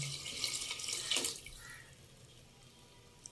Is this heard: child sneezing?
no